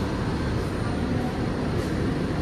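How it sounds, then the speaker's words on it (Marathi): A train pulling out of a station on a Konkan route, heard from inside a coach as a steady, even rumble of rolling motion with no distinct beats. "ट्रेन आता सुटली असा"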